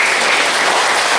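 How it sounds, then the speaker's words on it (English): A church congregation gives thunderous applause during a service. The loud, dense wall of clapping fills the space evenly from start to finish, with no voices standing out. "Let's give the Lord a round of applause again."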